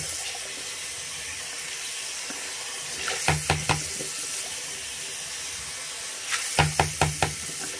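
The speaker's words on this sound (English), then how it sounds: "once the raw water starts running clear like this, it's good" Tap water runs steadily from a faucet while a Dyson DC07 vacuum part is rinsed, a constant hiss broken by two quick clusters of sharp knocks as the part is tapped.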